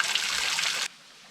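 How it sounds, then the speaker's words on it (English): Spring water trickles out of a crack in limestone rock on a backpacking trail, a steady close splashing that stops abruptly partway through, leaving quiet outdoor background. "this water is like coming out of a crack. It's like, it's weird. It's coming out of the center of the rock."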